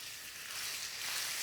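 Pork belly sizzling in a smoking-hot wok with vegetable oil, a soft steady hiss of frying, faint and brief with no talk.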